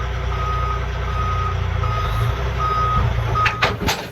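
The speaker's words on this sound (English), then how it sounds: "we should be right to back under and hook up to the trailer" A prime mover truck backs up under a trailer, its steady engine rumble running beneath a loud, repeating reversing beeper that pulses in regular intervals, ending with a couple of sharp clunks.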